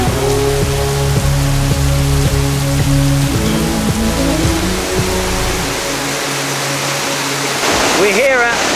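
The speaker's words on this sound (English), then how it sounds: "The rain is a-coming." Steady broadband rain noise fills the scene on a waterfall trail, loud and constant, with a low droning hum beneath it.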